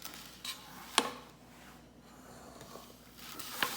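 A few sharp metallic clinks and clatters of two round cake pans being set down, spaced apart in a quiet room, with soft handling noises between.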